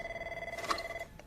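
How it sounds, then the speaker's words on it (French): A telephone bell rings with a steady two-tone electronic trill lasting about a second, moderately loud and clear, with no voices over it. "C'est le téléphone, jeune fille."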